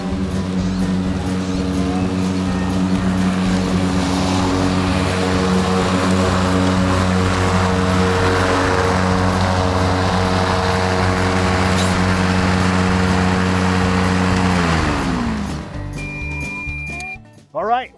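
Steady electric whine and drone of a John Deere Z370R electric zero-turn mower with bagger cutting about a third of an acre of lawn, close and constant, winding down near the end.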